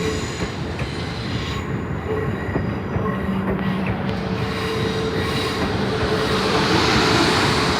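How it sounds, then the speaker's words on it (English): A South West Trains Class 450 electric unit pulls into the platform at Eastleigh station, its steady rolling rumble and wheel noise building and growing louder as it draws near, with faint squeals from the wheels. "now arriving on platform 2 is the 1415 South West train service from London Waterloo to Southampton Central"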